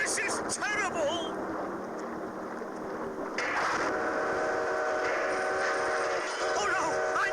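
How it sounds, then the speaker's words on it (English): A goods train whistle sounds in a cartoon, with sliding whistle-like tones near the start and end over a background of wind and water ambience, with a voice speaking briefly. "Oh, no! I know that whistle!"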